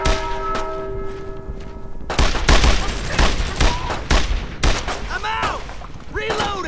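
Dense bursts of World War II gunfire in a Brothers in Arms battle at the Foucarville blockade, loud sharp cracks and rattling volleys near and far, with shouted voices breaking through.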